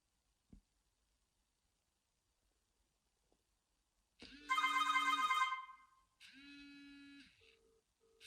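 A telephone receives an incoming call dialed from another phone, giving a loud electronic ring in two bursts, one longer and one shorter, after several seconds of near silence with a faint click early on.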